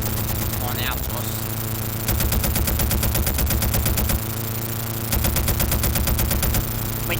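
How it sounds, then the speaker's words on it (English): Aircraft machine guns fire in rapid bursts in the 1990 Red Baron flight game, loud rattling volleys repeating over a steady droning engine, with a brief pause between the two main bursts. "My guns they're doing nothing."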